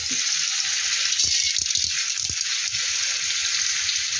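Chana dal frying in hot oil with mustard seeds makes a loud, dense, continuous sizzle and hiss close up, with scattered soft pops and light scraping underneath.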